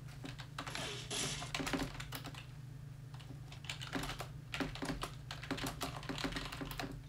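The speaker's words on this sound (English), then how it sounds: "I type so hardcore, like, y'all could probably hear my keyboard from, like, 10 years away" Hard, fast typing on a computer keyboard, dense clattering keystrokes in bursts with brief pauses, close and fairly loud; no speech.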